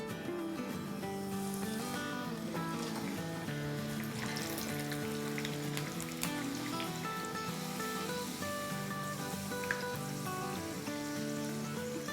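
Bhature dough frying in hot oil, a soft continuous sizzle and bubbling sitting under louder background music throughout.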